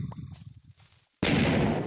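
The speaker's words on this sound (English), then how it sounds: "they still have the old explosion sound" A blocky video game explosion from Minecraft Pocket Edition, the older alpha-era sound: quieter game noises and chatter first, then a sudden loud broadband blast that sustains to the end.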